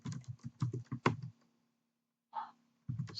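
Typing code on a computer keyboard, close bursts of quick key clicks, then a pause and a faint breath before the typing resumes.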